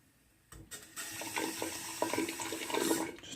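Tap water running onto a Semogue Excelsior 1460 shaving brush in a sink, a soft splashing trickle lasting about three seconds; close and fairly quiet, with no talking.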